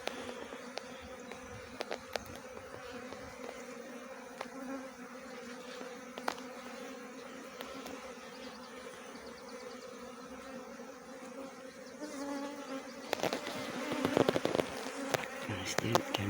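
A caught swarm of honey bees buzzes in a dense, continuous drone with individual bees whining past close by, growing louder and busier toward the end.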